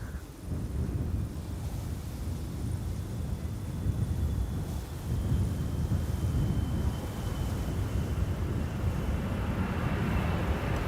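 A Boeing Dreamliner passes overhead on arrival near Amsterdam Schiphol, its broad low jet rumble holding steady and fairly loud throughout, with some wind buffeting.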